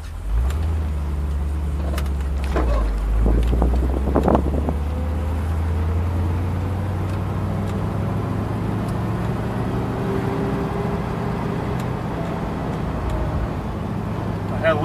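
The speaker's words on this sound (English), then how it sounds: "Bit of a whine coming from this backside." A 1964 Ford Galaxie with a 9-inch rear axle drives along with a whine from the rear end. The steady engine and road drone carries faint tonal whines that shift in pitch, heard from inside the car with some wind noise.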